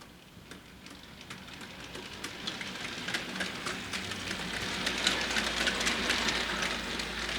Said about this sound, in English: We'll just back the train into the siding.